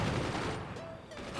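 Rapid bursts of 20mm cannon fire in the naval-fort strategy game Forts, a dense fusillade of fairly loud shots filling the short stretch with no pauses.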